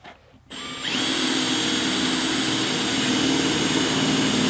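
A power drill bores into a metal surface through a cup held against it to catch the filings: a short motor whir, then a sustained loud, steady grinding whine with no talk.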